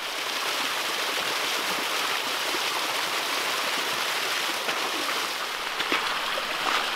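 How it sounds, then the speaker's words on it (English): A mountain stream rushes and burbles steadily up close, a dense continuous wash of flowing water with no voices. "the streams and little mini waterfalls that are flowing everywhere"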